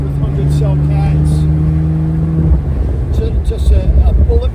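A 2015 Porsche 911 Turbo S (991.1) with a 3-inch Speedtech exhaust and 100-cell cats idles with a deep, droning exhaust note, then revs and burbles loudly close by, with no one talking.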